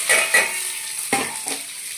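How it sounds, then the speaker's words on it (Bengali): Ivy gourd tipped into hot oil, a sharp burst of sizzling followed by a few more spitting flare-ups over a continuous fry, close and loud with no voices. "আমার তেলটা গরম হয়ে গেছে, আমি কুন্দুরিটা দিয়ে দেবো।"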